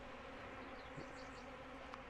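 Honeybees from a split hive, with a Caucasian queen in a candy-plugged cage, hum in a steady low buzz that stays quiet and continuous throughout, with no voices.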